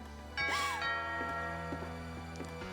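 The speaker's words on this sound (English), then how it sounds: "Sounds like a doorbell to me." A doorbell chime rings in the video game What Remains of Edith Finch: a bright, sustained ding-dong with ringing overtones that fades into a quiet interior hum, with no talk.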